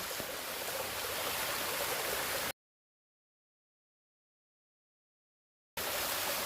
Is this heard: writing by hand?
no